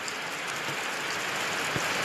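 Heavy monsoon rain pouring steadily in a village, a dense even hiss with no letup, close and constant.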